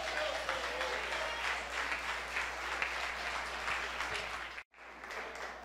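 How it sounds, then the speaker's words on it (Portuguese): A church congregation at a Pentecostal men's gathering claps together in sustained, dense applause, heard at moderate distance, briefly cutting out near the end before resuming. "Glorifique e aplaude o Senhor"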